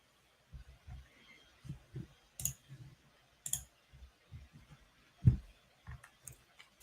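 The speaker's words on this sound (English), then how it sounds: "I'm quiet right now because I'm like typing all this stuff out" Keys on a computer keyboard are typed in short irregular bursts of quiet clicks, with several sharper isolated taps and pauses between, close and faint in an otherwise quiet room.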